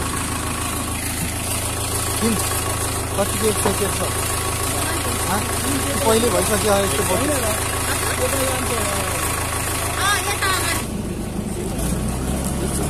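A vehicle's engine idles steadily at a Kaligandaki hydropower site, a constant low rumble running through the whole stretch while people talk over it nearby.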